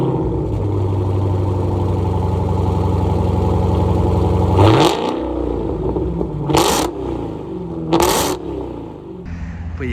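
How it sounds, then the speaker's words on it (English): Exhaust of a 2020 Dodge Challenger SRT Hellcat Widebody rumbles loudly at idle, then gets sharp revving blips, two crisp throttle bursts later, close by with no talking. "here is the exhaust, and I will tell you what the exhaust sounds like right here."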